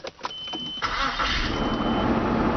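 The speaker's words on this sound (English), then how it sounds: "Now for the ultimate test, let's see if it starts." A car engine with a newly installed starter turns over briefly and catches, settling into a steady rumbling idle close by.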